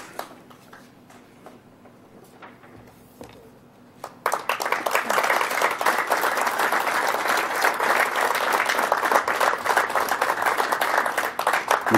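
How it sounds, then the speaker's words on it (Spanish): Applause at a Chilean fire brigade ceremony: after a few quiet seconds with sparse claps, a crowd breaks into loud, sustained clapping that holds steady to the end. "Les pido un fuerte aplauso, por favor"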